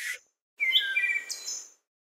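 Thrush singing in the English countryside in winter: a short high note, a pause, then a clear fluting phrase of whistled notes, fairly close and alone without talk.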